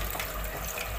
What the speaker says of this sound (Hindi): इसके अंदर मैं अभी डाल दूँगी थोड़ा सा मिक्सी धो के पानी